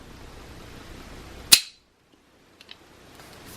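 A Trigger Tech trigger fitted to a Remington 700 receiver is dry-fired, giving one sharp metallic snap close up, followed by silence and a couple of faint small clicks.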